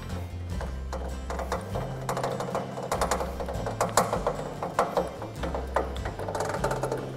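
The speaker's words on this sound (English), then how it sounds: "we're going to use the side jacks and we're going to crank them down so that it comes level." Side jacks on a rock climbing wall being cranked down, repeated ratcheting clicks and metallic mechanism clatter in an irregular rhythm, close and moderately loud, with no talk.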